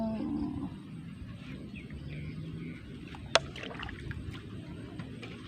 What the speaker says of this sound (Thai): เรือโฟมนะคะพี่น้องคะไม่ใช่เรือไม้นะคะ เรือโฟม